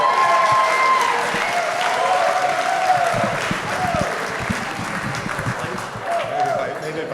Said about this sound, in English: A nice round of applause for David Farber.